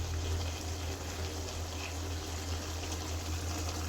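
Broth poured into a pot of spicy beef curry, a continuous steady rushing flow of liquid with a low hum beneath, close and even throughout.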